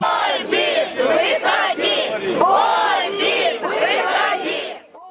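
A crowd of protesting food factory workers shouts together at a rally outside a tax office, with overlapping raised voices in loud, continuous waves.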